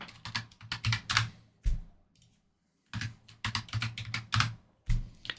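Rapid keystrokes on a computer keyboard while entering values in GTA V graphics settings, coming in two bursts of close, crisp clicking separated by a short pause.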